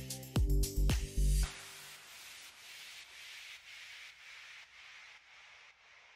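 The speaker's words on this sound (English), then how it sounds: "sand the edges so that I have a clean edge" Edges of a decoupage napkin glued onto an MDF heart are sanded by hand: a few loud, sharp scrapes first, then a series of softer rhythmic rubbing strokes that fade gradually.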